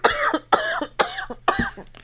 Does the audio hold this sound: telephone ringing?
no